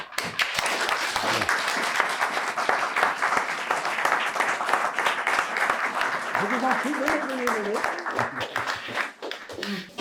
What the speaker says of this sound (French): Je vous remercie d'applaudir ces jeunes serviteurs.